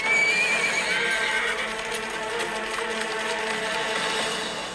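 Several horses neigh and whinny over a steady clatter of hooves during a mounted chase in a historical drama, loud and continuous with a dense, busy background.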